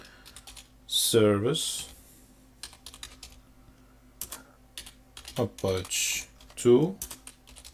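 Typing a command on a computer keyboard while setting up an Apache web server on Ubuntu Server 20.04, clusters of close key clicks spaced between stretches of someone talking.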